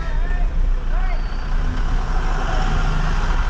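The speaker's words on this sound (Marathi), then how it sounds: "लय बेकार ट्रॅफिक." Heavy road traffic on a rainy day around a truck on a long-haul route, a dense continuous rumble of engines with faint horn-like tones above, steady and close throughout.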